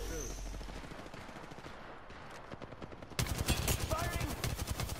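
Automatic weapon fire in Apex Legends, a rattling burst of rapid shots that grows suddenly louder and denser partway through, continuing in sharp repeated cracks to the end.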